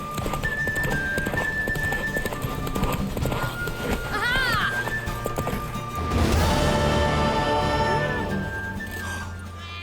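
Hooves clip-clop in a fast gallop as a horse, a mare, whinnies midway in the video game The Witcher 3: Wild Hunt, with music and voices over the top.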